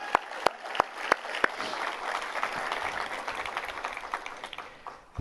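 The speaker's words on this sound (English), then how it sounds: "let's give everybody a round of applause" Round of applause from the audience at a school opening convocation in a high school venue, with a few loud separate claps at first that swell into sustained, even clapping from a large crowd.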